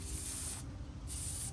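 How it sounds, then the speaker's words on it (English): Spray paint is applied to a pool noodle Christmas tree in two close, steady hissing bursts with a short pause between them. "So for that, I'm going to spray paint"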